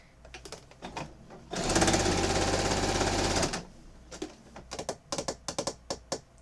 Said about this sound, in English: I'm going to sew along here on the bottom of the fabric